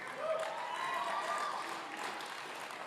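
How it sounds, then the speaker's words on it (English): Debate audience applause, a soft, steady wash of clapping from a crowd that stays at an even, fairly faint level for about three seconds. "You can tell from the applause"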